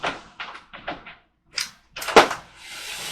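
A sliding shower door in a 2022 Forest River Salem Hemisphere 36FL RV is pulled shut, giving several short rattling knocks and scrapes, a louder thud of the door closing, and a lingering hiss afterward, all close by with no talking.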